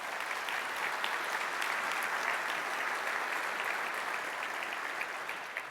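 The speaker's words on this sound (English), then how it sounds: "Let's give him applause." Steady, dense applause from a large audience at the GEOINT 2024 opening ceremony, fairly loud and unbroken for the whole stretch and easing slightly at the end.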